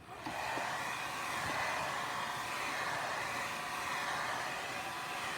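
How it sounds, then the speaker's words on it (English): Hair dryer drying a wet watercolor and gouache painting, a steady broadband whoosh that starts abruptly and holds evenly at moderate loudness, with no talk over it. "what I would do is I would take your hair dryer"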